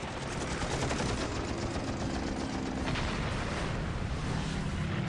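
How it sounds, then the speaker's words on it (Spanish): Aircraft machine guns fire a sustained burst during World War II air combat over Guadalcanal, a dense, loud rattling roar that continues without a break. "Una ráfaga de las ametralladoras de Smith le lleva a conseguir la 4ª victoria del día."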